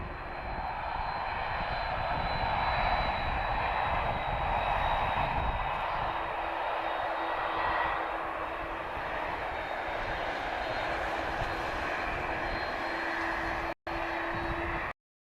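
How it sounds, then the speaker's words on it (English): A heavy jet airliner departing Lisbon Airport gives off a loud, steady engine roar that holds for the whole stretch, with a faint sustained whine running underneath. "Here we go guys, next heavy departure."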